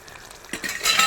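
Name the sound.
frying and stirring masala with curry leaves and dried chillies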